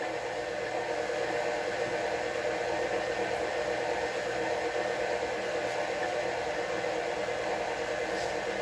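An electric mixer whirs steadily through pumpkin bar batter, a constant close hum holding at one pitch from start to finish with no talk.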